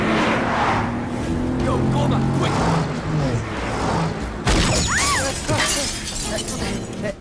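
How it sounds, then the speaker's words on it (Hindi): Rear window glass of a car shatters during a film fight scene, a sharp crash breaking out midway over dense action-movie sound with engine noise and music, loud and close. "टायर नहीं फूटा, पीछे का कांच फूट गया"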